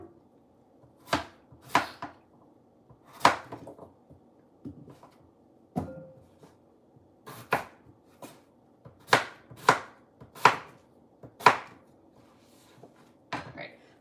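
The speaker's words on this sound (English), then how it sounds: "Before I chop the rest, let me see." Knife chopping food on a cutting board while cooking dinner, a dozen or so sharp separate chops in an irregular rhythm, close and clear over a quiet background.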